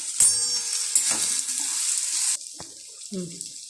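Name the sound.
stirring tomato curry with chili powder and salt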